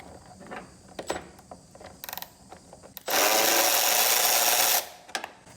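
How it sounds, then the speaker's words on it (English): Screws removed from a car's air filter assembly with a ratcheting tool: scattered clicks and small clanks, then a loud, steady whirring buzz of about two seconds, followed by a few more taps. "So we're going to start by removing these two screws right here."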